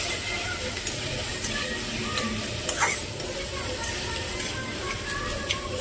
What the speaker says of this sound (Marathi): कढीपत्ता छान तडतडला आहे आणि त्यात टाकूया आपण एक मोठे कांदे बारीक चिरून गरम करून घेऊया